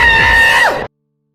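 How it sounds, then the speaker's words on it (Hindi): A man screams loud and close as a horror sound effect, one sustained anguished cry that bends downward near the end and then cuts off abruptly into silence. "सिद्धार्थ चीखा"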